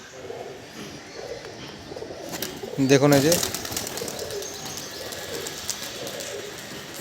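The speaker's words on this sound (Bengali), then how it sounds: "এই প্রত্যেকটা হচ্ছে বাচ্চা পায়রা" Young pigeons coo in a short burst near a loft while someone speaks over them, with faint bird chirps and rustling behind.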